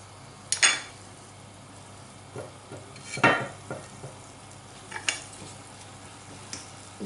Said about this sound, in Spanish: Voy a echar los 4 dientes de ajo que ya tengo cortado, laminado, los voy a poner y los voy a sofreír un poquito.